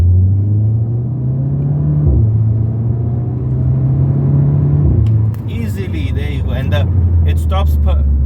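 A 2009 Volkswagen Golf MK6 GTI pulls in second gear with a steady, loud engine drone that rises and dips through shifts, heard from inside the cabin with talk over it.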